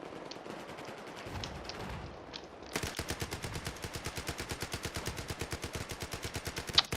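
Sustained automatic rifle fire from Battlefield 4 multiplayer, a rapid steady stream of sharp shots that starts after a quieter stretch of distant firing and keeps going to the end, loud and close.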